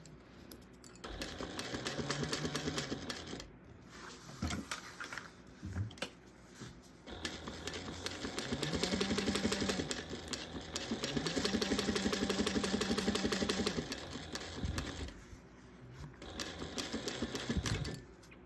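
A sewing machine stitches a fabric pouch in long, steady runs of rapid needle clatter with a whirring motor, pausing briefly between passes and then starting up again; no one talks.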